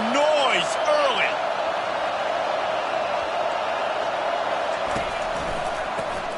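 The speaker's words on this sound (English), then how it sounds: "This crowd bringing the energy and noise early." A football stadium crowd roars in a steady, dense wash of noise, loud and continuous, with a voice speaking briefly at the start.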